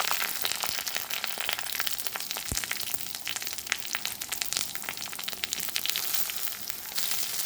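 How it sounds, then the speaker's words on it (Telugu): Cumin, fenugreek, black pepper and coriander seeds roast in a little oil for a tamarind stew, giving a dense, continuous crackle and sizzle with scattered sharp pops throughout. "జీలకర్ర మెంతులు మిరియాలు తర్వాత ధనియాలు వేయించుకుంటున్నాను"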